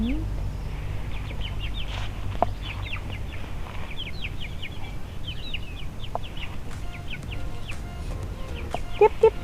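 Chickens on a Thai farm garden, with soft clucks and scattered bird calls over a steady low rumble of outdoor background noise, with a couple of sharp clicks near the end.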